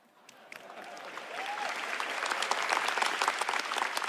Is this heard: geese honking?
no